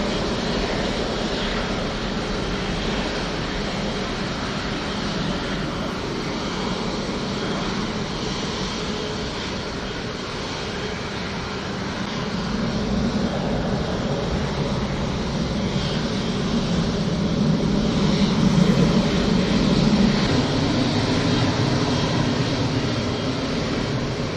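A Singapore Airlines airliner at Manchester Airport gives a steady, broad engine roar that swells gradually toward the end, with no talk over it.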